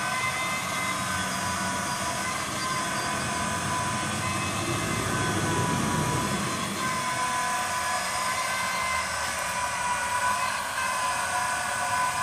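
A Hill PCP high pressure air pump with two synchronous motors runs on a 12 volt battery, making a constant loud mechanical hum and whine with steady tones that barely change over the whole stretch, and no talk.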